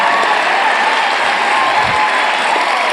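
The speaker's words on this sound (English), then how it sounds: "Here are the people that are clapping." Theatre audience at a live show clapping steadily, a dense, loud, even wash of applause from a full house.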